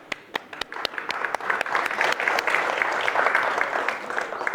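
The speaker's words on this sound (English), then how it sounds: "Give Tim a round of applause" An audience at a fall reception breaks into applause, scattered claps at first that swell into a dense, steady round of clapping, heard from the middle of the room.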